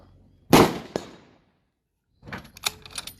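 A 6.5 Creedmoor rifle fires a single sharp, loud shot with a brief echo, followed a moment later by a quick run of metallic clicks and clatter, probably the bolt being worked.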